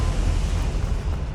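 A Confringo fire spell blast in Hogwarts Legacy makes a loud, sustained rumbling whoosh of fiery energy with a heavy low roar, lasting over a second and heard without speech.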